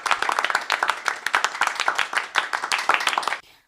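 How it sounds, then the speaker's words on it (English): A clap track sound effect plays at a show intro: crisp, rhythmic group hand claps, close and punchy, repeating steadily before cutting off abruptly near the end. "I really love that clap track"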